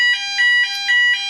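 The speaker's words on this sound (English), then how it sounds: "Fire alarm's going off. Can you hear that?" A smoke alarm beeps in loud, high-pitched pulses, about four evenly spaced chirps in quick succession with no voices.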